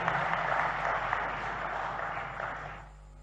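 A crowd at a political event in Madhya Pradesh claps to welcome Rajnath Singh, a loud, sustained burst of applause that holds steady, then fades and stops abruptly, with no voices over it.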